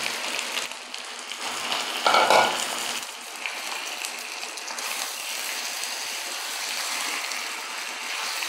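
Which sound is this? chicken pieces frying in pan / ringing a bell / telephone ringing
chicken pieces frying in pan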